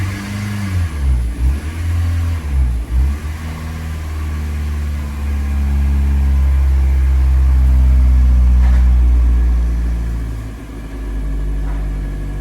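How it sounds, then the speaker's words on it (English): A car engine turns over and starts after a throttle body deep clean, with a few short revs before settling into a loud, steady idle that lasts most of the clip, with no talk over it. "So basically the car is idling properly."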